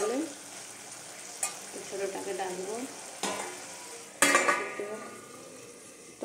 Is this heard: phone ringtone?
no